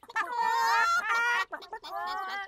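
Cartoon chickens give a string of loud, close, squawky clucks in two bursts with a brief pause between them.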